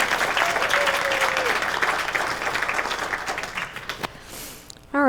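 Audience applause during a talk, steady crowd clapping that thins and tapers toward the end, with a voice briefly starting up as it fades.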